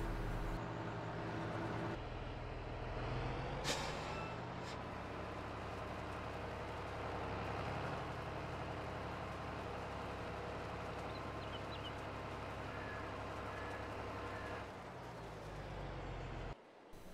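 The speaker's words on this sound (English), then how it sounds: "go ahead and put these into the dump truck and we'll take a load down to the train" A dump truck drives steadily through Farming Simulator 22 on Goldcrest Valley, its engine giving a constant low, even drone for the whole stretch with a brief shift near the start and a cutoff at the end.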